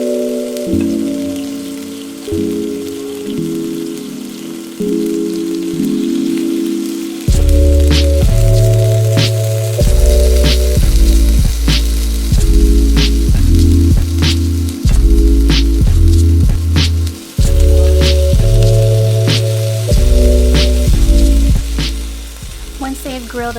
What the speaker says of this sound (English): For some nice smoky flavor, we're gonna grill our octopus tentacles.